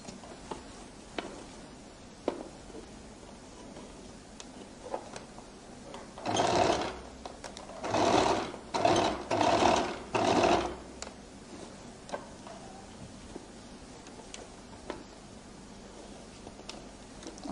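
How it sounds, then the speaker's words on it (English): Sewing machine stitching a flared skirt, running in several close bursts of steady mechanical whirring separated by pauses, with quiet ticks and handling noises around them. "I roll it open and I now begin to stitch."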